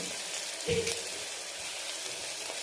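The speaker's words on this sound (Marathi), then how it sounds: "आता यामध्ये टाकून घेऊ अद्रक, लसूण आणि कोथिंबीर याची पेस्ट टाकून घेऊ" Ginger, garlic and coriander paste hits golden fried onions in a pan for mutton curry, and a steady close sizzle continues with a slight swell as it goes in.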